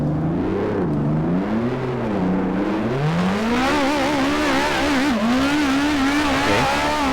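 Race car engine in rFactor at the Hungarian GP, weaving through a chicane: loud, close, whining engine note rising and dipping repeatedly with gear changes and throttle lifts, continuous and without voices.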